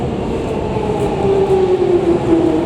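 A London train rumbles and rolls along a station platform, a steady loud rush with a rising metallic squeal of brakes as it draws in.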